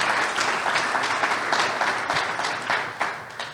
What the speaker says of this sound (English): we have a round of applause for Vicky,